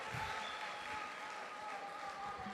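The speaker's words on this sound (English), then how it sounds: "Shall we be gracious and appreciate Opoku Ware School with a round of applause?" Audience at the NSMQ 2023 grand finale quiz contest applauding Opoku Ware School, a steady, fairly soft wash of clapping throughout with a faint crowd murmur and a faint tone held underneath.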